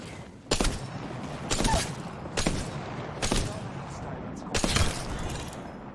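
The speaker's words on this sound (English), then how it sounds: "Airstrike." Explosions from an airstrike in the video game Apex Legends go off as a series of about five sharp, loud blasts spaced roughly a second apart, each leaving a brief rumbling tail.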